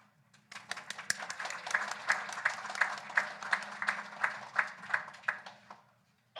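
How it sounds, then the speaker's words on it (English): Small-group applause at the 2023 Libertarian Party of California convention, a scattering of claps that settles into a steady rhythmic beat, moderately loud in a hall, then stops abruptly. "How about a big round of applause for our donors?"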